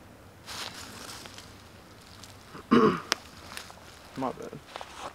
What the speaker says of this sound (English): it was clearing my throat